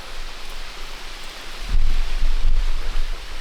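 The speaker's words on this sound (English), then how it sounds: "This rain is just crazy." Heavy rain pours steadily as a dense, close hiss, with a deeper rumbling surge in the second half that may be a roll of thunder or a heavier downpour.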